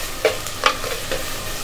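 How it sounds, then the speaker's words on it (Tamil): Onions sautéing in a pan for crab rasam, a low steady sizzle with a few quick scraping stir strokes, close and fairly quiet. "வெங்காயம் கொஞ்சம் நல்லா செவுக்கட்டும்."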